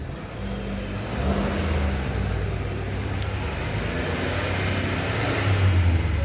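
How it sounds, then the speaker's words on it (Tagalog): A 2022 Mitsubishi Mirage engine, smoking and lacking power after its PCV valve was cleaned, revs steadily in a sustained, moderately loud mid-range drone that swells slightly near the end, with no talking. "Sige daw, i-rev daw."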